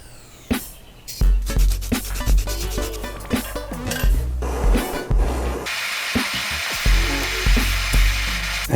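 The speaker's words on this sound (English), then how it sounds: "we're going to be deburring it and then folding it into a ring shape" Deburring a cut silver state quarter ring with a small rotary power tool, a steady high whirring grind that starts after a second and runs continuously with brief dips and bursts of contact noise.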